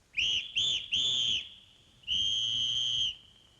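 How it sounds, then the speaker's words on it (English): A shrill whistle is blown close and loud: three quick short blasts followed by one long sustained blast, with no talking. "Went the whistle."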